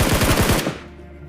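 Rapid automatic gunfire in a mobile battle royale video game, a loud burst of about seven quick shots that cuts off and fades into a short echo.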